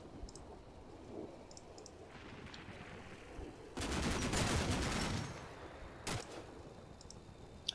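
Gunfire at a barn in the video game Combat Mission, with a sustained burst of rapid shots and then a single sharp crack, over a low rumbling background and occasional faint clicks.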